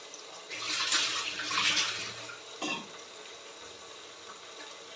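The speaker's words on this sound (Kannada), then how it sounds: "ನೀರು ಕೈ ತೊಳಿಯಕ್ಕೆ" Tap water running in a home kitchen while hands are washed during biryani cooking, a splashing gush that comes in two bursts and then stops, with a brief knock after.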